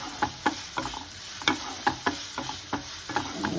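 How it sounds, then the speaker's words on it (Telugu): Onions frying on high flame in a pan for chole curry, stirred with repeated sharp scraping strokes over a steady close sizzle, no voices. "ఉల్లిపాయలు బాగా వేయించుకోవాలి. హై ఫ్లేమ్లోనే పెట్టండి."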